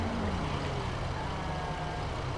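A GMC truck rolls through traffic in GTA 5, a steady, loud engine rumble and road roar under dense street noise, with no talking.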